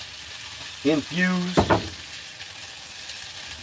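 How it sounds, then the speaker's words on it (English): Food frying in homemade bacon grease in a hot pan on a truck camper stove, a steady soft sizzle under someone speaking briefly. "Go back in the hot frying pan."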